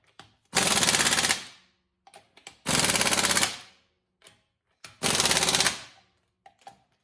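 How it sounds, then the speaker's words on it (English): An impact wrench with a 100 foot-pound torque stick tightens lug nuts on a 2020 Toyota 4Runner: three loud, close hammering bursts, each under a second, separated by short pauses and faint clicks, with no speech. "I have a 100 foot-pound torque stick"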